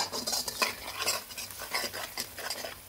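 Spices stirred in a pan over low gas for beef mince keema curry, with close scraping and clinking of a utensil against the pan in quick repeated strokes over a soft sizzle.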